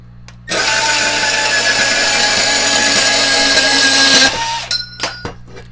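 Milwaukee sub-compact cordless band saw cuts through a piece too large for its size, a loud steady whine for about four seconds before the blade frees and the motor winds down.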